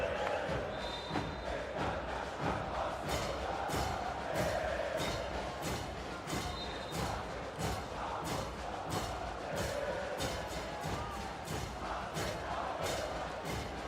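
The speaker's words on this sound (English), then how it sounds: "Crowd still at it in Cairo." Steady roar from a Cairo basketball crowd at the Al Ahly versus Ferroviario Maputo final, a constant wash of cheering with scattered thuds and shouts, heard from within the arena.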